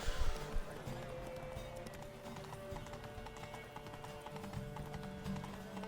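Roach, a horse in The Witcher 3, gallops with a fast, rhythmic clip-clop of hooves, steady throughout at moderate volume, with a brief louder burst at the start.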